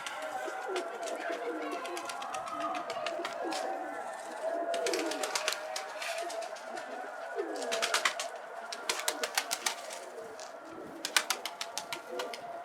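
Pigeons coo in soft, repeated low calls, with scattered chirps and fluttery bursts around them, fairly close and steady throughout.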